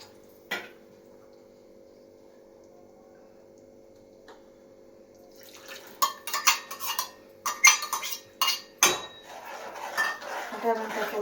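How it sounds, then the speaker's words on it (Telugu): A spoon scrapes and clinks against a pan while spinach paste is stirred, a run of sharp metallic knocks in the second half after a low steady hum and one early clink. "ఇలా కలుపుకొని కొద్దిగా వాటర్ కూడా పోసుకోవాలి"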